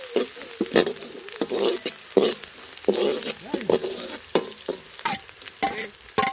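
Ingredients for a drumstick-leaf stir-fry sizzle in a pan while a spoon stirs and scrapes at it, giving steady frying with repeated clinks and scrapes, close up and without talking.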